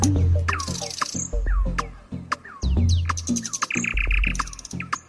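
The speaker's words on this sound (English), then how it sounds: "just like this nightingale, the bird that sings out in the dark." A nightingale singing, a loud close run of varied chirps, whistles, trills and rapid clicks with brief pauses, alone with no talking.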